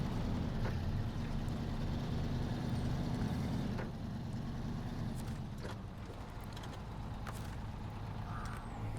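A truck engine rumbles steadily at idle in the SnowRunner video game, a low continuous drone that eases slightly partway through, with faint clanks and game sounds over it and no talking.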